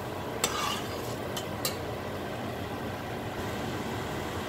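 Masala bhindi curry cooks on a slow flame, with a soft, continuous sizzle and a few brief scrapes of stirring in the pan.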